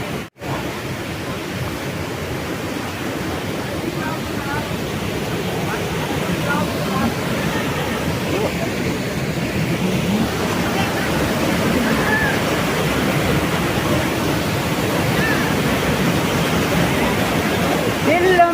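The Polluru waterfall near the Andhra Pradesh–Odisha border roars steadily, a loud continuous rush of falling water that fills the whole stretch without pause.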